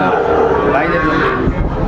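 A cow moos loudly and close by at a cattle farm with Sahiwal bulls and heifers in Jamalpur, one long drawn-out low call with other livestock sounds around it.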